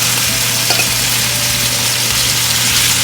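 Lean beef frying in rendered pork fat, giving a loud, dense, continuous sizzle close up with a low steady hum beneath and no talking.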